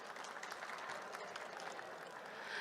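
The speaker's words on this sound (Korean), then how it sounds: "멋진 발표 진행해주신 카본 에너지에게 다시 한번 큰 박수 부탁드리겠습니다." Audience applause after a startup pitch at the COMEUP 2024 Rookie League, a steady, fairly faint wash of many hands clapping from a room, holding level for a few seconds and swelling slightly at the end.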